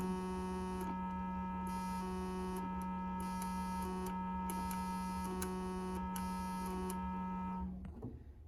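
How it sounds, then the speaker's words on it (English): A steady synthesizer tone with rich harmonics switches between sine, square and sawtooth waves, buzzy and bright in stretches, over a constant low hum, cutting off near the end. "The waveform select chooses between 3 different waveforms: sine wave, square wave, and sawtooth wave"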